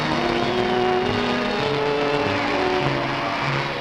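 Royal car arriving at a film premiere, a continuous motor hum with rising and falling tones under crowd noise, on an old, slightly muffled recording.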